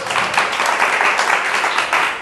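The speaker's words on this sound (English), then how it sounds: "Give a round of applause" Round of applause from a small group at a coaching workshop, a brief dense burst of hand clapping, close and fairly loud, with no talk over it.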